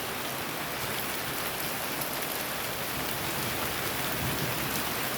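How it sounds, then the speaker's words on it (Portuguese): Rain falls steadily at night, a continuous broadband patter and hiss of drops on surfaces that holds evenly and fairly softly throughout, with no voices. "Se não fosse tão tarde da noite eu ia banhar na chuva."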